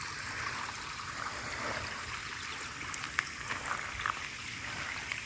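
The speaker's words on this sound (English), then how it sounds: "Just listen to how gorgeous the babbling of this little brook is." A small babbling brook in summer woods, a continuous soft trickle and gurgle of shallow water close by, with a few brighter splashy drips standing out, and no voices.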